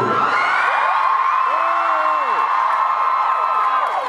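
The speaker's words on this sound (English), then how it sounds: "Your half is cheering for my half." An audience at a VidCon 2012 panel cheers and whoops loudly, a dense crowd roar with individual yells and rising shouts throughout.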